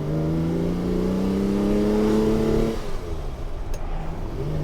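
A Ferrari 330 GTC engine revs loudly and steadily up through the gears while driving, then the note drops off into a lower, rougher idle-like rumble near the end.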